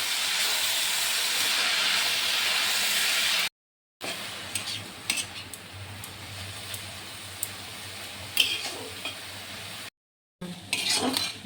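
Jute leaves fry in a pan with a loud, steady steam-like hiss at first, then a softer crackle broken by scrapes and stirring, and two brief silent cuts along the way.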